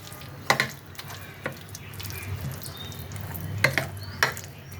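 Wet batter of grated carrot and chaat masala is worked by hand, giving soft squelching and a few sharp clicks and knocks of hand against bowl, with a faint steady background hiss and no voices.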